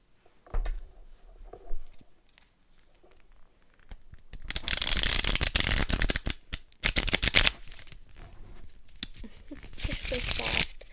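Soft playing cards are handled and shuffled close up by candlelight during a power outage, with soft taps at first and then two bursts of riffling, flapping card noise.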